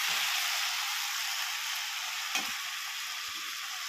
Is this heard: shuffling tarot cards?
no